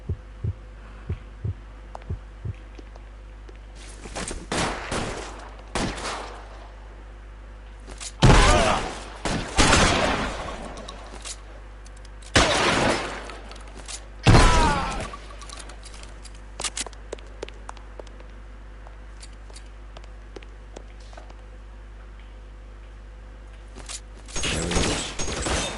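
Gunfire in the L.A. Noire Remastered video game: several loud bursts of shots separated by quieter gaps, with scattered single cracks and a low steady hum underneath.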